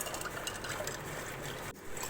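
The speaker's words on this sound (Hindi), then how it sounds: "सिरप ऐड करने के बाद हम इसके अंदर ठंडा पानी ऐड करेंगे।" Cold water pouring into a glass of mint lemon syrup drink, a steady splashing trickle that runs continuously at close range and breaks off briefly near the end.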